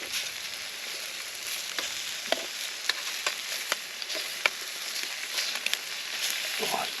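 Bacon fries in a pan outdoors during a bike trip, a constant soft sizzle and hiss broken by small pops and spits, close but fairly quiet.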